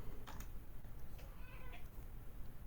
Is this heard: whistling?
no